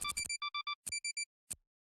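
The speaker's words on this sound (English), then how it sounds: "made an odd beeping noise" An electronic scanner in the video game Asagao Academy gives a sharp, clean run of quick chirping beeps in clusters, then a pause and one last short beep.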